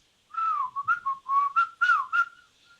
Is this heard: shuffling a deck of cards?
no